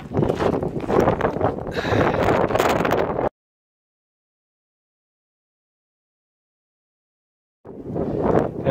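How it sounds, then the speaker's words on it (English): Strong wind on the West Highland Way trail between Kinlochleven and Fort William roars loudly against the microphone, cuts to silence for several seconds, then returns just as harsh. "It's still very windy, and the sun keeps coming out every now and again."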